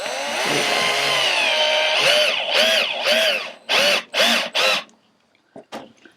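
A power drill drives 2-inch screws into pre-drilled wooden shutters, whining in a long sustained run, then several short bursts, ending with brief quiet clicks.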